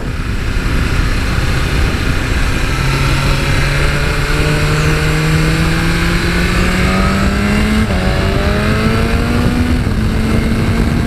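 A 2019 BMW S1000RR sports motorcycle accelerates hard through the gears, the engine note rising in steady sweeps with a brief drop at a gear change, loud and close under constant wind roar.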